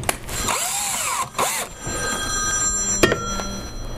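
A power drill bores a quarter-inch pilot hole while building a multi-color T-shirt printer, its motor whining up and down in a few close, loud bursts with no talking.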